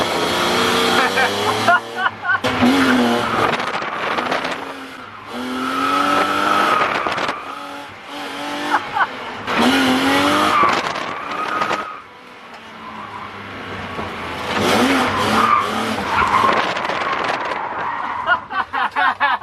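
A BMW E36 drift car slides hard with long, loud tire squeals rising and falling over a revving engine. Repeated skids come in bursts through the run, with brief lulls, and voices can be heard underneath.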